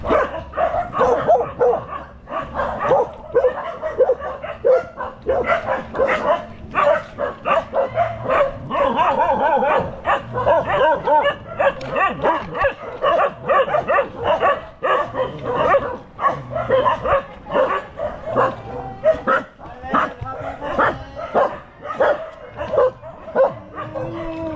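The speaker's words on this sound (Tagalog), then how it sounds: "Daming aso." Many dogs bark and yip together in a dense, continuous chorus, close and loud, with occasional whimpers mixed into the barking.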